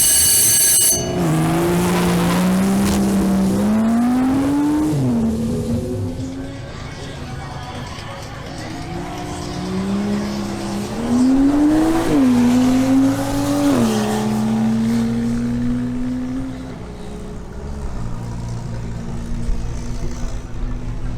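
A BMW M240i xDrive accelerates hard during a timed sprint race, its engine climbing through two full runs of gears with sharp upshift breaks, loud and close, then fading to a lower drone.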